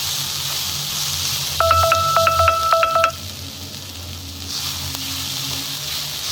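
Momo filling with pepper sautés in a pan, giving a steady close sizzle and hiss throughout. A short run of electronic beeping tones cuts in through the middle, and nobody speaks.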